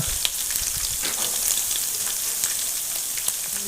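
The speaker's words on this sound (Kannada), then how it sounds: "ಈರುಳ್ಳಿನ ಅಷ್ಟೇ ನೀಟಾಗಿ ಸ್ವಲ್ಪ ಕಲರ್ ಚೇಂಜ್ ಆಗೋವರೆಗೂ ಫ್ರೈ ಮಾಡ್ಕೊಳ್ಳೋಣ" Steady, loud sizzling and crackling of onions frying in hot oil for poha, continuous throughout, with no voices.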